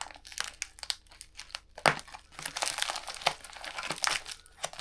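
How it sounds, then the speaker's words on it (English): Packaging tape being cut and pulled apart while unboxing an Aoocci C6 motorcycle CarPlay screen: close, busy crinkling and crackling with rapid snaps and small tears, one sharper rip partway through, no voice. "So I've just started to cut my way through this tape."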